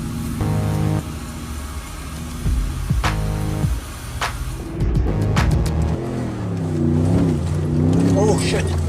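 A car engine revs and labors as the vehicle crawls through soft desert sand in the Simpson Desert, the pitch rising and falling through gear changes, loud and close, with people talking over it.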